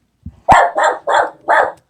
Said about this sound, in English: now the dog's gonna go nuts a bit